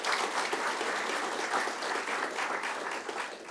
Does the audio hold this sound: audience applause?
yes